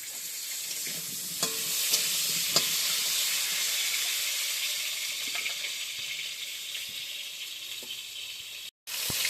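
Bay leaves drop into hot oil in a home kitchen while potatoes cook, giving a steady close sizzle with occasional stirring clicks and scrapes and a brief dropout near the end.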